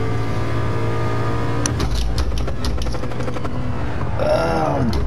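A Ford Focus RS engine drones steadily during a racing video game lap of Suzuka, a continuous loud hum with gear-shift blips and tire squeal near the end.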